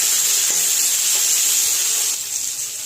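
Chopped tomatoes and green chilies hit hot oil for a bottle gourd and prawn dish, giving a loud, close, continuous hissing sizzle with bubbling spatter that eases slightly near the end.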